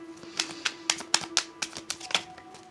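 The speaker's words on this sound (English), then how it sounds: "let me shuffle on camera" Sharp, rapid clicking and riffling taps of tarot cards being shuffled close by, about a dozen quick bursts in an uneven rhythm over a faint hum.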